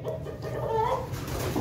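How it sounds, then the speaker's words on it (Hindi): Chickens of a small breed in silver and golden colouring cluck continuously at close range in a home coop, with no talking heard. "आपको मिलवाते हैं ये मुर्गियों से।"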